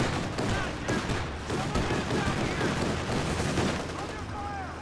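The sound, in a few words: autocannon firing a burst, from the video game Company of Heroes 2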